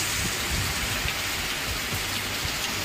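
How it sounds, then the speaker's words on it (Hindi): Heavy monsoon rain pours steadily in a broad, dense hiss, loud and continuous, with scattered drops spattering close by and no voices. "आसोर वर्षा है भाई बहुत जोर पूरा वर्षा"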